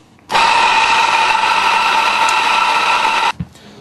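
A Mazzer coffee grinder grinding coffee beans coarse for a cafetiere, a loud steady motor whine that starts abruptly, runs for about three seconds, then cuts off with a short clunk.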